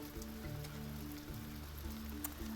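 Rain in the video game Stonehearth, a soft, steady patter on surfaces under low, sustained tones from a quiet game soundtrack.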